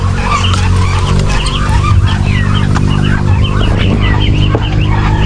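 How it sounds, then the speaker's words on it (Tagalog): Brahma chickens, one rooster and one hen, kept in a small backyard farm, with scattered clucks and calls over a constant loud low rumble of engine or machinery noise. "yung Brahma yung ating napapisang Brahma. Tandang saka isang inahin."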